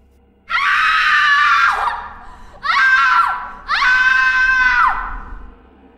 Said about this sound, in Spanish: Ante esta escena, Dorotea gritó desesperadamente.